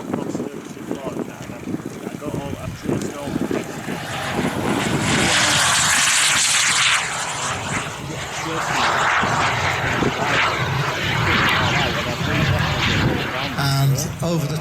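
A large scale model jet in red and white roars through a low pass at a model aircraft show, its turbine whine swelling loud and broad overhead, then fading and building again, with a commentator talking over it.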